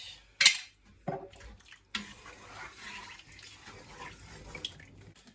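Water added to a pan of osso buco in a home kitchen, with a few sharp metallic clinks of pan and utensil followed by a soft, steady pour and sizzle.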